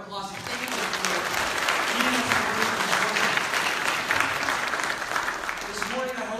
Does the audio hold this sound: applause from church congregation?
yes